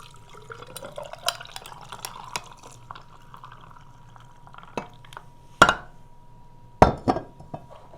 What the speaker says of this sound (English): And then fill the rest up with water and stir it.